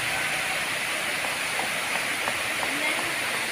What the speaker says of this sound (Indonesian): air terjun Watria.